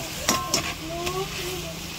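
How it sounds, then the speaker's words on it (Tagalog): A spoon or spatula stirs sautéed bitter gourd (ginisang ampalaya) in a pan, giving a few quick scraping clicks over a steady frying sizzle, with a faint voice in the background. "Basta halo-haloin mo lang, ganyan lang."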